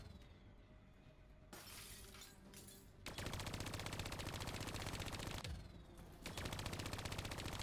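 Call of Duty: Black Ops 3 campaign gunfire erupts in loud, rapid automatic bursts with a brief shattering crash, and the firing runs almost without pause through the clip, with no speech.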